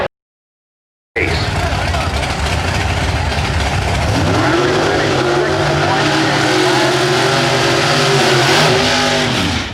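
Drag racing car with a 706 cubic inch Ford big-block engine at an IHRA nationals event, bursting from silence into loud sustained engine roar that rises in pitch as it accelerates, with a voice talking over it.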